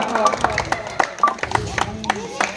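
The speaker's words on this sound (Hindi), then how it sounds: "ताली बजाते हो बच्चे लोग जो है तो ताली बजाते हैं।" Children at a Ravidas Jayanti gathering clap their hands in a quick, fairly regular rhythm, the claps close and moderately loud with voices talking over them.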